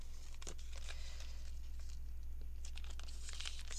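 A sticker being peeled for a junk journal gives soft crinkling and short tearing rasps in two brief bursts, close and quiet, with no talking.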